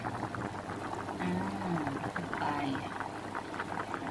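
Water comes to a hard boil in a pot of Japanese oden broth made with dried-fish soup stock, giving a steady, dense bubbling and gurgling that runs without a break close by.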